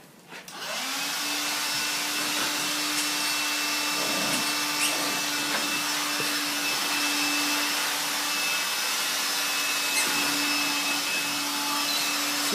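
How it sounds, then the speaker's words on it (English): A vacuum cleaner switches on about a second in and runs as a loud, steady whirring drone with a constant motor whine, close by and uninterrupted to the end. "The vacuum cleaner will suck up your tennis ball."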